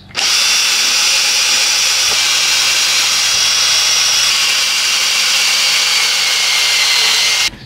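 A power drill bores holes through a drill guide, a loud steady high whine running continuously for several seconds and then stopping, with no talking.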